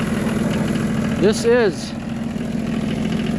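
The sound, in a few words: 1985 John Deere 1050 tractor engine idling after cold start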